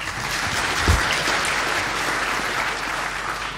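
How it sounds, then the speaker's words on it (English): An audience at a talk on automation breaks into steady applause, a dense wash of clapping that holds at an even level for several seconds with no voices over it. "Round of applause."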